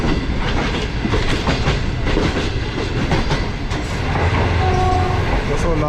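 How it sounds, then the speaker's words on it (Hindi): A Green Line economy train travels from Lahore toward Lala Musa Junction with a loud, steady interior rumble and rhythmic clatter of wheels on rails, heard close and continuous. "तो ट्रेन इस वक्त हमारी लाला मूसा जंक्शन की तरफ बढ़ रही है"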